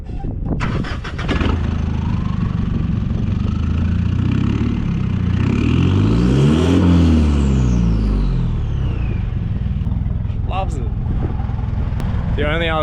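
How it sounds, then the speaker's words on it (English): A vehicle engine with a 3-inch straight-through Ruse exhaust fires up and settles into a loud, close, steady idle, its pitch rising and falling once mid-way, with no speech over it. "my exhaust is a 3-inch straight through Ruse exhaust system."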